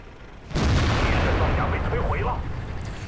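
A single heavy tank cannon shot in World of Tanks, a loud sudden boom followed by a long rumbling decay under game noise.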